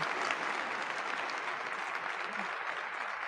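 Steady applause from a crowd, even and sustained for a few seconds, with no single claps standing out.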